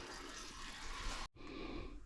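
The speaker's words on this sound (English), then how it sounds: "Let's wait until it quits dripping again." Oil streams and drips from a Ford 6R80 automatic transmission on a Ford F-150 during a service, a close, continuous liquid pour that stops for an instant before running on.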